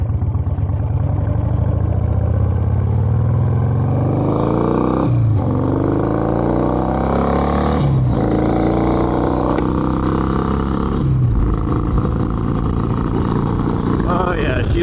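An Indian motorcycle engine fitted with a new carburetor runs loud and close, idling roughly, then revving up several times in quick throttle blips that drop back between rises.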